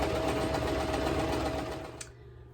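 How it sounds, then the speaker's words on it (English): Sewing machine running steadily as it stitches a seam around the edge of a piece of fabric for reusable cloth towels, a continuous close whirring hum that cuts off near the end and leaves a quiet pause. "just going to go ahead and do a stitch, and this will go all the way around the fabric"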